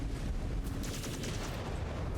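Weapon fire from a battle mech in the video game Mechwarrior 5 Clans, a dense, rumbling barrage of blasts that stays loud and steady for about two seconds.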